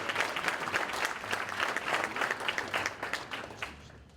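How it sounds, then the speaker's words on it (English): An audience at a JROTC military ball applauds for the graduating seniors, a dense, steady patter of many hands clapping that carries on for a few seconds before tapering off near the end. "Let's give a round of applause to these seniors that are leading."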